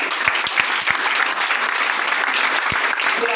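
Loud, sustained applause from an audience honoring a team, a thick wash of clapping with a few sharp, distinct claps standing out near the start.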